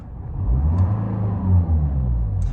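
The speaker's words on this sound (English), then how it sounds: "If I give it a quick rev" The 2.0 turbo-diesel engine of a 2012 Mini Cooper SD hatch, which has a slightly larger exhaust, gets a quick rev: a deep, close rumble rises, holds briefly and settles.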